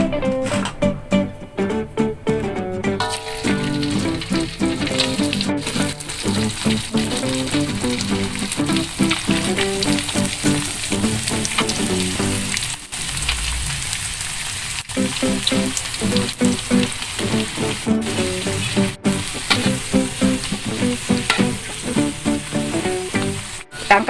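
Cassava leaf chips fry in hot oil, crackling and sizzling steadily and densely up close for a long stretch, with occasional stirring clicks and brief dips in the noise.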